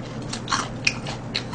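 Crisp bites into crunchy BBQ fried chicken done in old-style whole-fried batter, a few sharp crackling crunches spaced over a second and a half, close and clear with no talking.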